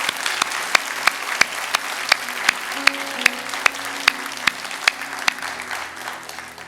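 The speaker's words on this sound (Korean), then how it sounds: "할렐루야, 우리 하나님께 감사의 박수 드리겠습니다." A church congregation claps during a Sunday worship service, a steady rhythmic applause with sharp evenly spaced beats standing out over the crowd's clapping, while sustained tones sound faintly underneath.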